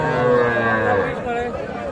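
Young bull calves at the Ambari livestock market call out with a short, close moo that fades into low market noise and murmuring voices.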